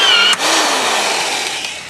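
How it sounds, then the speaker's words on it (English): A drill running with a cheap riveter attachment, working to pop a rivet. A loud, steady whirring mechanical drone carries through the whole stretch after a brief dip near the start, with a few faint clicks toward the end. "Now switch your drill to forward and insert the clamp into the shank of the rivet"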